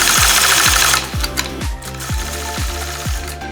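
Home sewing machine quilting a diagonal motif through fabric blocks guided by a Mini 4-N-1 ruler, its needle pounding in a steady, rapid rhythm of close, loud stitches that continue throughout.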